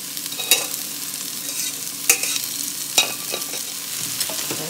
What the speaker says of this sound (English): Let's get this a stir here.